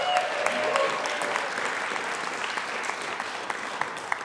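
Steady applause in a state legislative chamber for a former Broncos defensive back, many hands clapping at a moderate distance and holding an even level for several seconds.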